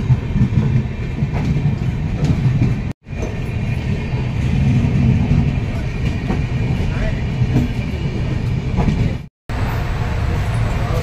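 Loud rumbling of the Diva–Sawantwadi passenger train at a station in India, with rattling carriages and people talking nearby over the din; the sound briefly cuts out twice.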